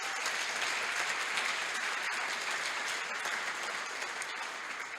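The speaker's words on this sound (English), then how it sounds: "Let's give them a round of applause." A banquet audience at a chamber of commerce dinner applauds its corporate sponsors, a steady, dense wash of many hands clapping that holds evenly for the whole stretch and eases only slightly near the end.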